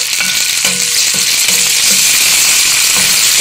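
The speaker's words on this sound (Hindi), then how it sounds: "अब मैं ये प्याज दोबारा जो है वो गर्म कर रही हूँ और गर्म करके इसमें मैं ये टमाटर और सब्ज़ मिर्च जो है वो डालकर इसको फ्राई करूँगी" Onion, tomato and green chili frying in a pan for behari keema, a steady loud sizzle throughout with a few soft stirring scrapes.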